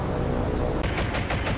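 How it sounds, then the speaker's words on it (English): Rapid machine-gun strafing fire from an aircraft in the naval combat game War on the Sea, a series of bursts that begins partway through over a dense, loud rumble of battle noise. "Come on, give us a good strafing run again."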